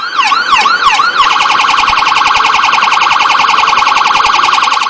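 A loud electronic earthquake emergency siren wails, first sweeping rapidly up and down a few times, then settling into a steady, piercing continuous tone.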